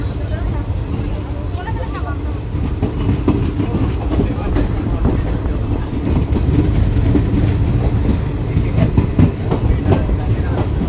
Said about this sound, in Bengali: এখান থেকে আপনাদের ডিপার্চার দেখাচ্ছি, একেবারে ডিপার্চার হয়েও গেছে।